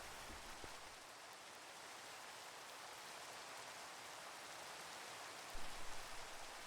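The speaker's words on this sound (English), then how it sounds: "We can finally get rid of this rain." Steady rain in the Minecraft video game, a constant broadband hiss of falling drops with no breaks, fairly faint and even throughout, with a brief soft bump near the end.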